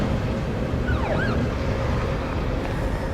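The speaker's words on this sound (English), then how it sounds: "there's an ambulance here" An ambulance siren wails in The Evil Within video game, a brief rising-and-falling tone heard at moderate distance over a dense, steady low rumble of ambience.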